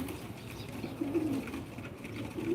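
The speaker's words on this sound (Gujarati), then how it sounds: "કેટલા કબૂતર આવી ગયા ભાઈ" Pigeons cooing as a flock gathers to feed on mung beans and peanut grains, soft low coos rising and falling steadily over a continuous background murmur.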